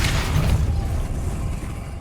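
A Depulso force spell cast in Hogwarts Legacy, heard as a loud, close, heavy whoosh and thud that fades out over about two seconds, alone without talk.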